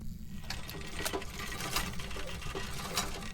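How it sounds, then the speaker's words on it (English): Sewing machine in the reworked Grafton Farmhouse of the video game Phasmophobia, running briefly with a steady mechanical whir and faint rhythmic ticks, continuous and moderately quiet, with no talk. "The sewing machine actually runs a little bit."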